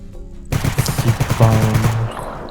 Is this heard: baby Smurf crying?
no